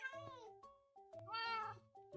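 A cat in a video game meows twice, quiet and close, with each meow drawn out and sliding in pitch.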